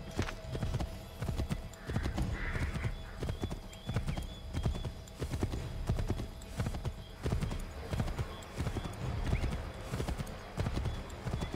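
Horse hooves clip-clopping in a steady, continuous rhythm as a horse is ridden in the video game Assassin's Creed 3, close and prominent over ambient game sounds for the whole stretch.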